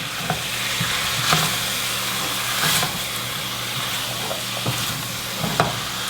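Green pepper, onion, celery and cayenne sizzle steadily in a hot pan for jambalaya, with a spoon stirring and scraping in a few distinct strokes over the continuous frying hiss.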